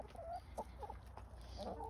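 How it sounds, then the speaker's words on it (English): A rooster gives a few soft, short clucks, faint and close, with quiet pauses between them. "You're a good rooster."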